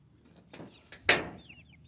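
Chickens clucking, part of a batch of nine bought together, heard as a few brief, fairly faint clucks and calls over a quiet background.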